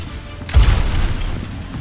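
A rocket explosion from a rocket jump in the shooter Overwatch: one loud, close boom that hits suddenly and then fades into a lingering rumble.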